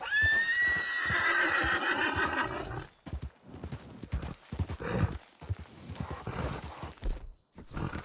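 Horse in Red Dead Redemption 2 lets out a loud, close neigh, then its hooves clip-clop and thud in an uneven galloping rhythm.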